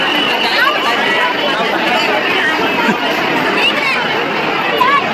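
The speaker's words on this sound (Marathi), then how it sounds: "एकदम भयानक गर्दी आहे." A huge crowd mills around Trimbakeshwar temple near Brahmagiri in Nashik, its dense, steady babble of many voices filling the space up close and loud, with occasional short high chirps or whistles cutting through.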